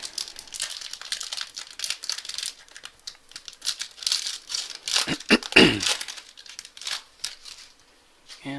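A 2014 Topps Prime trading card pack is torn open and crinkled up close, with bursts of foil wrapper crackling and ripping over several seconds.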